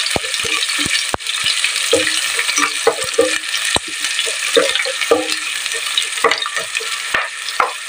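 Onions sautéing in a pan for a squid dish with pechay and radish, a steady close hiss of frying with intermittent scraping and clacking of a utensil stirring against the pan.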